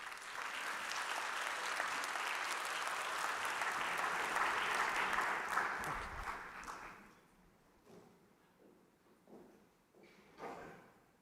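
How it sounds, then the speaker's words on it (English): Warm applause from an audience at a formal education report launch rises steadily and holds loud for about six seconds, then thins out to a few scattered claps and quiet room noise. "A warm round of applause for Mazi"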